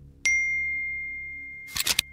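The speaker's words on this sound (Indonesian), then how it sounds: "Tiba-tiba ada SMS masuk." An incoming SMS notification rings out as one bright ding that rings on and slowly fades for about a second and a half, followed by a short burst of rustling, clicky handling noise.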